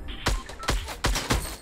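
Four sharp gunshots ring out in steady succession while hunting, each a loud broadband crack with a short decay, with no talking between them.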